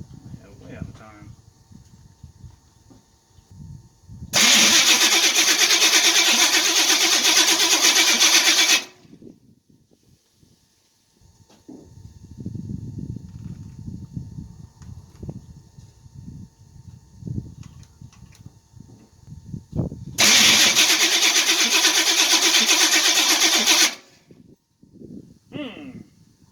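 A Chevrolet Nova's engine fires up in two loud, steady bursts of several seconds each, separated by a stretch of people talking nearby.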